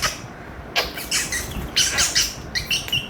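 A voice imitates lovebird calls in a string of shrill, squawky chirps and short bursts, close and fairly loud.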